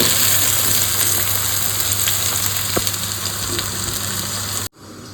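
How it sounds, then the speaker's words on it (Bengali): Banana flower (mocha) deep-fries in oil with a dense, steady, close crackling sizzle that holds evenly, then cuts off abruptly just before the end. "দেখো মোচা ভাজা হয়ে গেছে"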